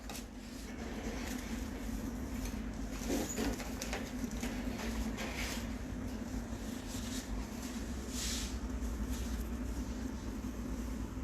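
Pigeons cooing softly, a few low repeated coos over a steady background hiss with faint rustles, mid-distance and fairly quiet, with no talking.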